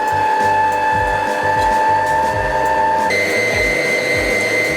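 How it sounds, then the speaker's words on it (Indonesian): Electric hand mixer beating egg whites with granulated sugar at medium speed for Christmas tree cookies, a loud, close, continuous motor whir with a slight pitch shift partway through. "Kemudian kita kocok pada speed yang sedang-sedang aja sampai dia setengah kaku."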